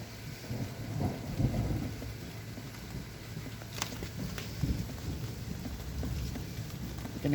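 Steady rain falls outdoors near a home porch, a constant hiss with soft low rumbles of thunder rolling underneath and a few sharper drops, with no voices.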